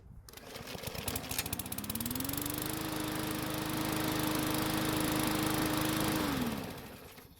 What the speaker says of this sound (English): Hopefully this time it'll take a lot less than 4 pulls to get it to start.